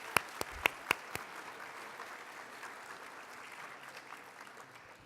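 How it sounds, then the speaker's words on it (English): A few sharp close claps open a round of applause for student performers at a donor recognition reception, then soft, distant, diffuse clapping continues quietly to the end. "I'd like to give them a round of applause."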